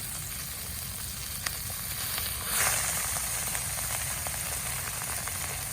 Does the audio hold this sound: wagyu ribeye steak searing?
yes